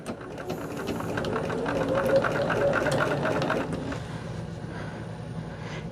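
A sewing machine runs close by for a few seconds, a steady low mechanical hum with a rapid needle clatter as it takes a small stitch, then slows and fades into quieter background hum.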